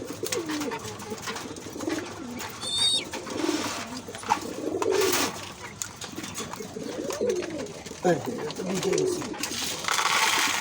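Pigeons coo repeatedly in soft, low, rolling phrases close by, with brief higher chirps and faint background noise between the calls.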